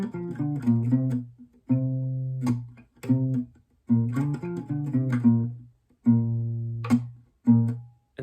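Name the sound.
acoustic guitar loop, first four sections of a song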